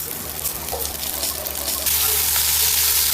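Beef frying with garlic and oil in a pan, a steady hiss that swells louder and brighter partway through, alone without voices.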